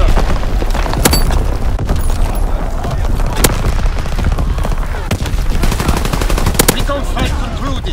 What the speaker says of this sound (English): Firing primary weapon